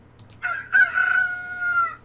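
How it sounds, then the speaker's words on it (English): A rooster crow sound effect from the Scratch coding program, one loud close cock-a-doodle-doo with a rising start and a long drawn-out ending, heard alone. "change it to the rooster and make sure it's not annoying"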